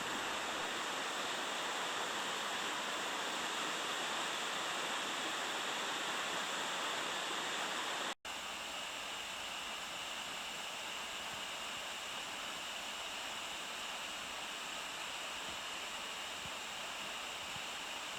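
Whitehorse Falls pouring down the creek, a loud, steady, close roar of rushing water with no break in its noise.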